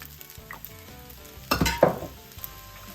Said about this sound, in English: a little bit of sugar, stir that in